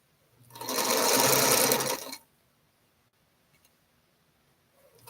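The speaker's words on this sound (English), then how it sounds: "You can put a quilt on the long arm" A long arm quilting machine stitches through a quilt in one steady, loud mechanical burst of about a second and a half, then stops, leaving near silence.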